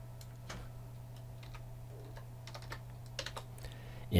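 Typing on a computer keyboard while editing on-screen text in video-making software: a quiet, irregular patter of soft key clicks, closely miked, with no voices and a louder thump at the very end.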